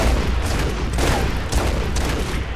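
Voltox rifle in Gears of War 3 firing rapidly after an active reload, a loud, dense burst of continuous gunfire with sharp repeated cracks filling the whole stretch, no voices over it.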